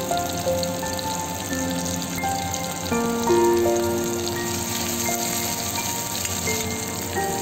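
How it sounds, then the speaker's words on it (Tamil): Shallots sauté in hot oil for snake gourd sambar, a steady close sizzle running throughout beneath faint tonal background sounds. "சின்ன வெங்காயம் நல்லா வணங்கிடணும்."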